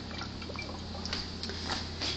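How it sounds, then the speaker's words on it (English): Water kefir poured through a funnel into a corked, wired bottle, a soft continuous trickle and gurgle over a low steady background hum. "I use a funnel and I pour it in a corked wired bottle for the second fermentation"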